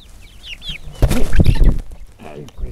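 Backyard chickens being offered blueberries and apples cluck in short, chattering bursts, close by, with a louder stretch of calls in the middle and a person's voice briefly mixed in.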